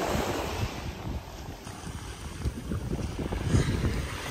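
Ocean waves at Jaws Beach in Nassau, Bahamas, a steady wash of surf under heavy wind buffeting the microphone, with no voices.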